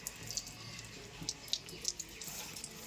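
Water running and splashing while mango sap is washed off, faint and trickly with scattered small splashes and drips, quiet outdoor background.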